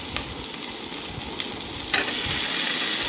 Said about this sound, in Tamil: வெங்காயம் நல்லா லைட் ப்ரௌன் ஆகிற வரைக்கும் வதக்கி விட்டுக்கலாம்.